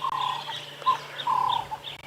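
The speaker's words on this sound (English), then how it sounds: "what I'm wanting to do is just listen to the bird calls" Birds call beside a drainage line lined with tall trees at sunrise on safari: a faint scatter of chirps and short whistled phrases, soft and somewhat distant over a low steady background hum.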